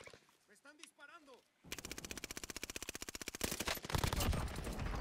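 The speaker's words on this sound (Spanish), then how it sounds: "Me están disparando." Gunfire in the video game Warzone, heard as a long burst of rapid automatic shots that builds into louder, denser firing, preceded by brief speech from a player.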